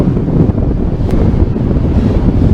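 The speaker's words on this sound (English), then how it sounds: "It's pretty windy and gusty out here." Strong, gusty wind roars and buffets loudly against the microphone in flight under a paraglider or speedwing, a continuous low rumble rising and falling with the gusts.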